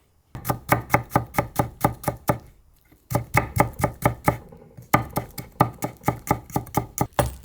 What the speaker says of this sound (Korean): 마늘은 채를 썰어서 넣어줄 거예요